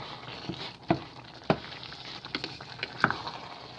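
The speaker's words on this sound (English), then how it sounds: "Now we're going to mix it all up." Tomato chickpea soup ingredients stirred together in a pot, giving a few soft scraping and knocking strokes of a utensil at an uneven pace, close by and fairly quiet, with no talking.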